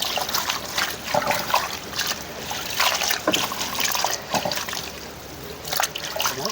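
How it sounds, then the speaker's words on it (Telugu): Leafy greens are washed by hand in water, with continuous close splashing, trickling and sloshing that rises and falls over several seconds. "అందుకనేసి నీట్గా దీన్ని నీట్గా కడగాలంటబ్బా"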